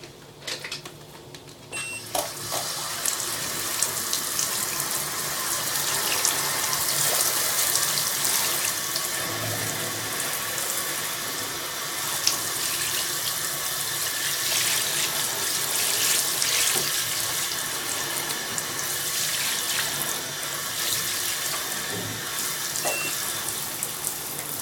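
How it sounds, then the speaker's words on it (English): A shower sprays water into a bathtub to rinse it, a loud, steady hiss and splash that runs throughout with slight shifts as the spray moves, and no voices. "now I'm just going to rinse it with the shower, and at the same time I'm just going to rinse the bath at the same time"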